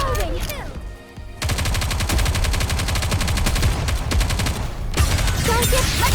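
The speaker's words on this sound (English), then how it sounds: "Keep shooting!" Rapid automatic gunfire rattles in dense, continuous bursts in the Nikke shooter game, breaking briefly for a quiet gap before resuming loud and close, with a character's voice calling out near the start.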